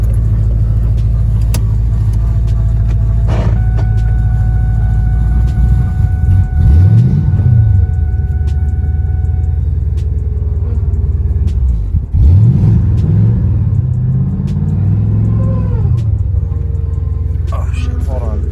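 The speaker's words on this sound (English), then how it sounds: "Probably take it for like a quick drive real quick." A Ford Mustang New Edge with a swapped 3V engine rumbles steadily close by, with a deep, loud idle. It swells into two rising revs as it pulls away and drives, and voices break in briefly over the engine.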